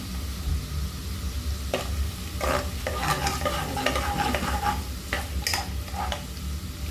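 Garlic browning in oil in a pan for papaitan: constant sizzling under repeated clattering scrapes and taps of a utensil as it is stirred, close and busy.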